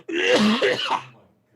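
A man close by clears his throat once in a short, rough, groaning burst that fades out.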